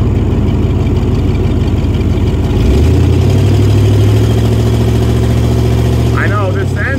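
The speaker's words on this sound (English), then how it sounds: "I know this engine really sounds like it's on its way out." A Ford E150 van's engine runs with its doghouse engine cover removed, a loud, steady low rumble that sounds worn and rough, deepening partway through, with faint voices.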